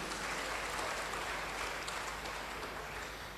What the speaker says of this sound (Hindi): और हमारे सभी लीडर्स और सभी मैनेजमेंट के लिए जबरदस्त ताली होनी चाहिए।